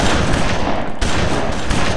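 Rapid automatic gunfire from gun-wielding zombies attacking a church in the video game BloodRayne, loud and close, with a brief break in the middle.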